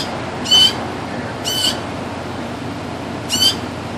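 A hungry bird squawks three times in short, loud, shrill bursts spaced about a second apart against a quiet background hum.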